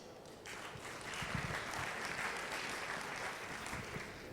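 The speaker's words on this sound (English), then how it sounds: "Je vous demande tout de suite d'applaudir Monsieur Carlo Ronti." An audience applauds speaker Carlo Ratti at a Smart City event, a dense, sustained wash of clapping that rises quickly and holds steady at moderate volume throughout.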